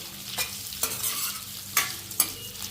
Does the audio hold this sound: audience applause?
no